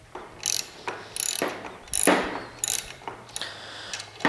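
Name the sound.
socket ratchet tightening a bolt on a Ryobi table saw stand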